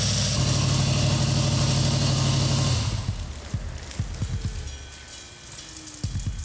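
A 1971 Plymouth 'Cuda convertible's 340 V8 idles with a low, steady rumble that fades partway through, leaving quieter knocks and ticks against soft background noise.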